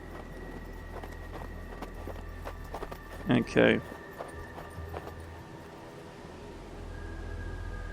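Horses' hooves clip-clopping in the Wild West video game Hard West 2, light scattered hoofbeats over a steady low hum, with a short spoken word from a man in the middle.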